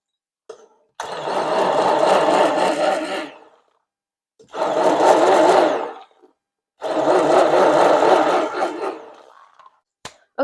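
An immersion blender whirs loudly through bubbling strawberry jam in three long bursts separated by short pauses, close up, with a couple of clicks at the end.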